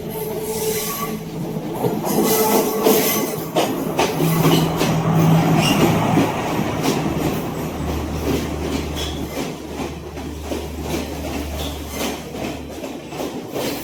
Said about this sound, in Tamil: இந்த ட்ரெயின் வந்து கொழும்புலேருந்து அப்படியே வந்து கொண்டிருக்குது